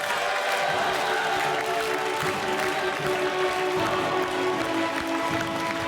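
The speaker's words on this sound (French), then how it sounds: "Applaudissements pour Laetitia, un triomphe." A game-show studio crowd applauds steadily, a dense wash of clapping with faint cheers throughout.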